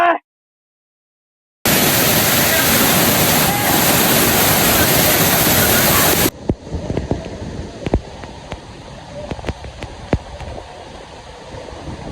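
Yalapura waterfall roaring as a loud, dense wash of falling water after a brief silence, then dropping to a quieter, more distant rush with scattered clicks and knocks.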